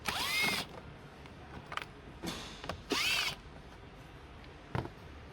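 A power tool whirs close by in two loud bursts, with short ratcheting clicks between them, as bolts come out of a 2022 BMW 228i during a battery replacement.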